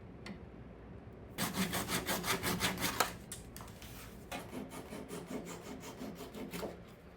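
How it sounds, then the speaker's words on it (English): A pull saw cuts miters in walnut and red oak for a jewelry box, giving a steady rhythmic run of close, rasping strokes that softens briefly midway before picking up again. "Time to cut the miters."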